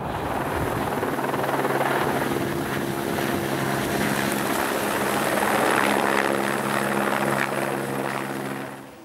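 Helicopter flying over forest, a steady loud rotor and turbine roar with a droning hum that holds for several seconds before easing slightly at the end.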